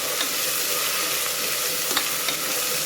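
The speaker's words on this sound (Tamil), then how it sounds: "நல்லா இஞ்சி பூண்டு பேஸ்ட்டு நல்லா வந்து வதக்கி விட்டுடலாம் வெங்காயத்தோட" Ginger-garlic paste and onion sautéing in a hot pan, a steady close sizzle with a few faint scrapes of stirring, no voices.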